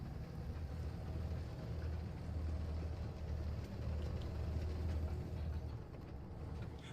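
A tank engine rumbles low and steady in War Thunder. It is faint and continuous, with no voices over it.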